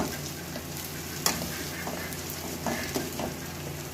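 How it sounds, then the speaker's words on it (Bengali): Green chili, ginger and garlic paste sizzle steadily in a pan for mung dal with colocasia leaves, with soft scraping stirs and a few louder spoon knocks over the continuous frying hiss. "দিয়ে দিলাম কাঁচা লঙ্কা কুচানো, আদা রসুনের পেস্টটা একটু ভালো করে নেড়ে নেব।"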